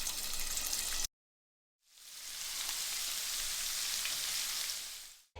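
Sausages frying in hot oil in a large pan, a steady loud, close sizzle that cuts out briefly and then resumes, with no talk.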